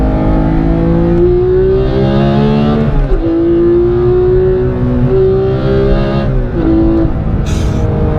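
A manual Porsche 991.2 GT3 sports car revs hard from the driver's seat. Its loud, continuous engine note holds a strong tone that climbs and dips with shifts and throttle changes. No voices are heard.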